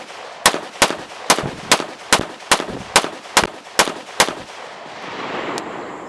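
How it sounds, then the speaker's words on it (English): A VZ58 rifle fitted with a JMAC Customs muzzle brake fires eleven loud, sharp shots in a steady rhythm at an outdoor range, each crack followed by a short echo, then quiet ambient noise. "JMAC Custom muzzle brake on the VZ58."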